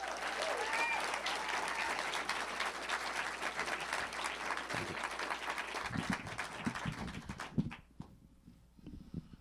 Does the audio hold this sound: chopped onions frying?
no